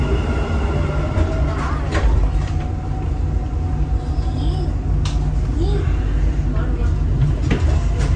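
Inside a Dubai Metro Red Line train, a loud, continuous rumble and whine fills the carriage as the doors shut and it pulls away, with a few clunks and a voice speaking over the noise.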